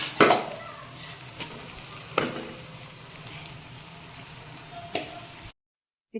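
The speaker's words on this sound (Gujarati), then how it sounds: "એમાં આપણે ખીચડી નાખીશું" Khichdi is added to a pan and stirred, giving a few soft scraping knocks over a low, steady sizzle, fairly quiet and close, before the sound cuts out abruptly.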